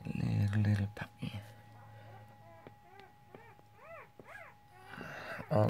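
A tiny two-day-old Dogo Argentino puppy gives a series of high, thin whimpers and squeaks at close range, with soft voices before and after.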